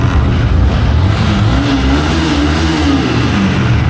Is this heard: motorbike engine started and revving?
yes